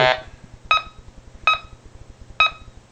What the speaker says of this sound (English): that's the sound you hear when you find something.